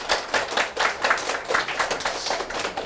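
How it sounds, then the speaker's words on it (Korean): A group of people in a workplace talk claps together, a steady burst of many hands for about three seconds, fairly close and without other sounds. "서로 박수 한번 치면서 시작하도록 하겠습니다"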